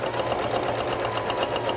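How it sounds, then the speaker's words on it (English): A sewing machine hums at a steady rapid pace while hemming a gown with matching thread close to a folded edge, a continuous close whir. "Now I'm sewing with my matching thread as close as I can to the edge of the fold."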